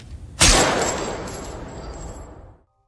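A single loud, sharp blast followed by a long rumbling decay that fades out after about two seconds.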